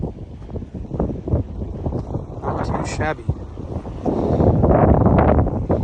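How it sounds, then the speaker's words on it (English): Wind gusts buffet the microphone on the open Kansas plains beneath a man's brief spoken remark, the rushing growing louder and steadier toward the end. "It is quite windy."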